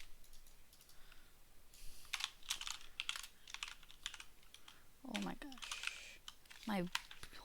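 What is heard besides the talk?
typing on a computer keyboard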